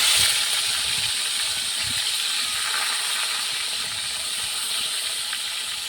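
Pieces of rohu fish fry in hot oil in a pan, a loud, continuous bubbling sizzle that stays steady for about six seconds and eases only slightly toward the end, with no voices.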